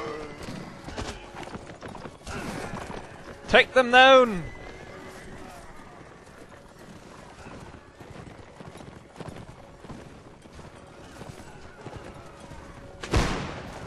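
A horse in a Mount & Blade Warband battle lets out a loud, close whinny partway through, with hoofbeats clip-clopping amid battle noise and a sharp burst near the end; a player talks over the action.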